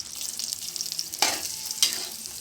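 Herbs fry in oil in a pan for a postpartum legiyam herbal paste, a steady close sizzle running throughout, with two brief louder hissing bursts as the mixture is stirred; no talking.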